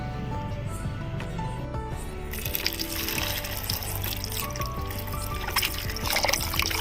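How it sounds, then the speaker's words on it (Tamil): Tap water runs as eggplants are washed by hand, a steady trickle that swells into a fuller, splashing stream partway through, close and continuous. "கத்திரிக்காயை நல்லா கழுவி எடுத்துக்கலாம்"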